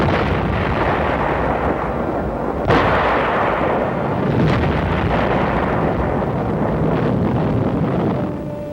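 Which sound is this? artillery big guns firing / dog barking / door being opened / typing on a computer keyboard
artillery big guns firing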